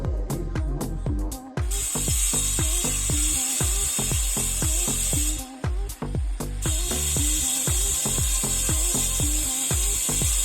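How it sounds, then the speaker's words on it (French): A small jackhammer breaks into a concrete beam while an opening is cut, its rapid loud hammering repeating steadily, broken by two brief pauses. "Donc je vais prendre un petit marteau piqueur."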